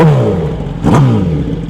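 A motorcycle engine revs loudly nearby, its pitch falling, then a sharp blip of throttle flares briefly before the note drops and settles again, with no voices.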